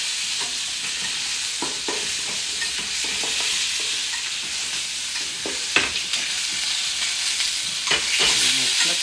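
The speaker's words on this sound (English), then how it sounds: "Just some nice aromatics going in the pan here. Some thyme, rosemary, the cinnamon lights and garlic." Thyme, rosemary, cinnamon and garlic sizzle steadily in a hot pan, a continuous bright frying hiss with occasional stirring scrapes and small pops rising near the end.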